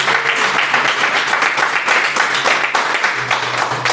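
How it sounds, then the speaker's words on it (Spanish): Steady applause from a church congregation praising the Lord, loud and continuous throughout with dense clapping and a low hum beneath, no clear talk. "¿Cuántos pueden darle un fuerte aplauso al Señor?"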